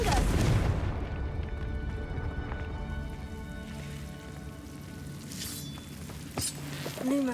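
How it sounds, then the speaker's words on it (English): Confringo blasting spell going off in Hogwarts Legacy: a loud, booming burst at the start that trails into a rumbling, debris-like decay, with a couple of smaller thumps and clatters following near the end. "Confringo!"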